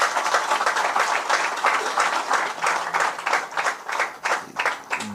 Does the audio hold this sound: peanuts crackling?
no